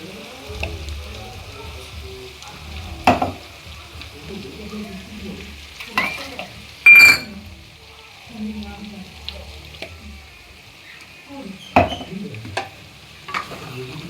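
A spoon stirs chicken curry gravy in a frying pan, with scraping strokes and sharp knocks against the pan over a soft background sizzle.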